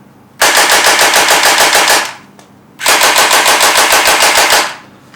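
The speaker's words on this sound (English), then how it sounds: "This is one of the fastest firing gel guns I've ever come across." Two rapid bursts of fully automatic fire from a Vector gel blaster toy gun, each a steady rattling stream lasting about a second and a half, separated by a short pause, loud and close with no talk.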